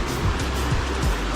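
Heavy rain pours in thick fog at Madhe Ghat, a loud, dense and continuous hiss with a low roar underneath.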